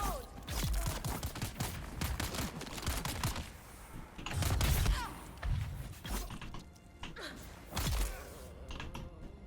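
Rapid bursts of gunfire from the video game Dune Awakening, with repeated loud shots in quick succession and a few heavier impacts scattered through the fight.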